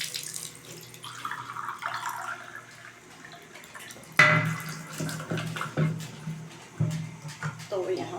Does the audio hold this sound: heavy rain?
no